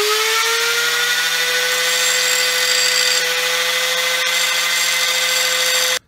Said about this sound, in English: first thing I'm going to do is I'm going to get my grinder, and what I want to do is I'm going to make 2 points pretty much flat